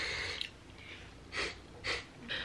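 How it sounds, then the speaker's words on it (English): Three sharp nasal sniffles from one person, close to the mic, follow a short breathy sniff at the start, spaced roughly half a second apart with quiet gaps between them and no talking. "You hear my sniffles?"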